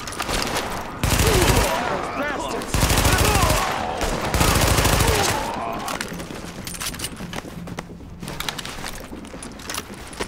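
Rapid automatic gunfire in The Division bursts out in several dense volleys, loud and close, with gaps between bursts; a voice talks over part of it.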